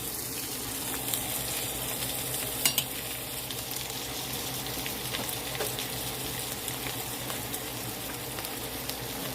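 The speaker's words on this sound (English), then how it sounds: "So let's add our butter into the potatoes." Butter is stirred into mashed potatoes in a home kitchen with soft, wet scraping and squishing, a steady low hiss in the background and a couple of brief utensil knocks, without talking.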